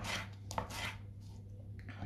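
A knife chops long green peppers into large pieces on a board, a few crisp close cuts in quick succession with no talking.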